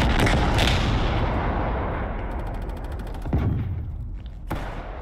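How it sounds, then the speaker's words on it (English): Cruise missile explosions in Call of Duty Black Ops Cold War Combined Arms Domination on the Miami map: a dense, continuous roar of booming blasts and gunfire with two sharp impacts near the end. "Cruise missile inbound."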